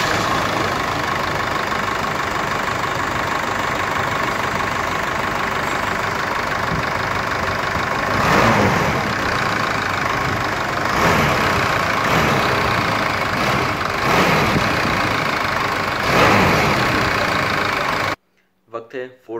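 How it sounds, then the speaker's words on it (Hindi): A Force Gurkha 4x4 engine rumbles at a steady idle, loud and close, with a few surges in revving, then cuts off abruptly near the end. "इंजन को चालू"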